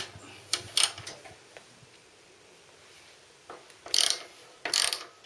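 A ratchet clicks in short, sharp bursts while loosening the top bolt on a Harley Sportster's rear suspension in a garage: one quick pair of ratchet strokes, a pause, then two more clustered bursts close by.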